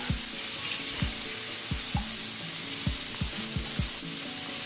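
Pig liver stir-frying in a hot wok with rapeseed oil and aromatics, a steady loud sizzle broken by regular sharp scrapes and clanks of a spatula against the metal, roughly one every half second.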